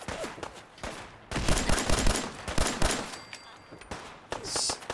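Pistol fire in Fallout 4 amid a firefight: a dense run of sharp, close shots and echoing impacts, loudest in the middle, with a few scattered shots near the end.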